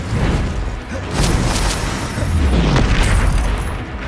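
Incendio fire spell cast in Hogwarts Legacy: a sustained loud rumbling boom of flame and blasts, with several sharp bursts and crackles layered over a heavy low roar lasting a few seconds.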